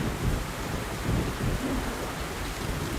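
Rain shower in the video game Metro Last Light Redux, a dense, steady wash of falling rain with low rumbling undertones, continuous and fairly loud throughout.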